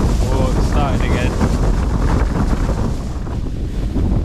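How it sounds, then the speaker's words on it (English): Strong gusting wind buffets a Fjallraven Abisko Lite 2 tent during Storm Barra snowstorm, a loud, rumbling roar with heavy microphone wind noise and constant low buffeting. "it's actually pretty good that it's windy, because the wind actually blows the snow off the tent"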